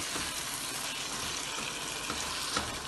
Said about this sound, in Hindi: कीमे को तोड़ेंगे अब हम और भूनेंगे